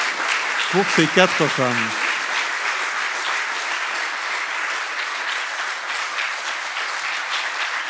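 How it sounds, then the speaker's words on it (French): An audience at a Geneva humanitarian walking tour gives warm, sustained applause in honour of four women. A voice briefly finishes a sentence at the start, then the clapping carries on alone at a steady, moderately loud level. "Je pense que tout ça mérite des applaudissements nourris pour ces quatre"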